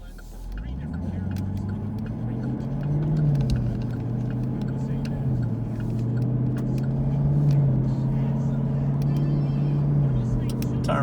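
A car drives along Highway 411 in Benton, Tennessee. A low engine drone is heard from inside the vehicle, rising and settling in pitch as it shifts and cruises.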